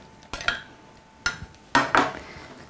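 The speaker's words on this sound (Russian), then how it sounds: "Перемешаем." Sugar syrup being stirred into homemade lemonade, with a spoon clinking against a glass or pitcher in three short bursts of scraping and chinking, close and fairly loud, with no talking.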